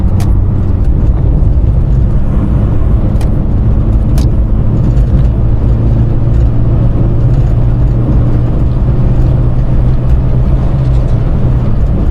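A 1996 Škoda Felicia with a 1.3 MPI engine (50 kW, 68 HP) pulls out to overtake on a country road, heard from inside as a loud, steady engine drone with road and wind noise and no talk.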